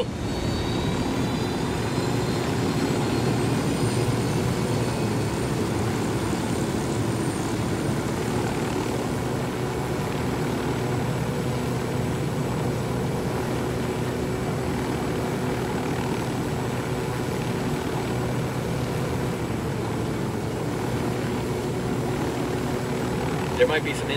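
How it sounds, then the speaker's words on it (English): A helicopter arrives in the video game Ghost Recon Wildlands, its engine and rotor drone loud and continuous throughout, a steady roar with no breaks. "We got your chopper."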